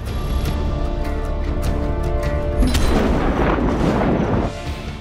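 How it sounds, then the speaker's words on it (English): Deep booming explosions from the video game Just Cause 3 roll out one after another, loud and rumbling with no talk over them. "Yeah, you guys do not look at explosions."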